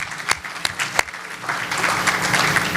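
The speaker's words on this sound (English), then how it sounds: "But let's give him a round of applause." A round of applause from the audience at a Good Shepherd Housing gala and awards event, starting with a few sharp claps and swelling into steady, dense clapping from a room full of guests.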